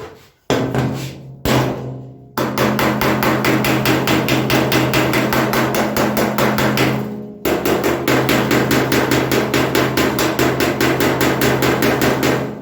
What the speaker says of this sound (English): when you're hitting with a hammer on dolly and you're trying to stretch the metal